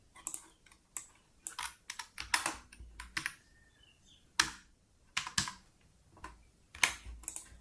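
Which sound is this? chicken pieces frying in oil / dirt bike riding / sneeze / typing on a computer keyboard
typing on a computer keyboard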